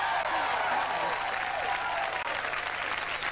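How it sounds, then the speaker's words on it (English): A studio audience gives a full, sustained burst of applause for a 1991 Australian television talk show guest, with dense clapping that stays loud throughout. "That was just the applause there."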